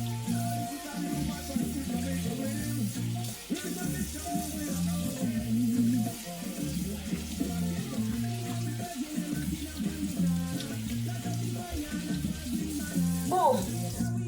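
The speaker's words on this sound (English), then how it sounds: "let me rinse my hand off" Hands are rinsed under a running tap in a home kitchen, a steady stream of water playing beneath a prominent rhythmic, tonal background that carries on throughout.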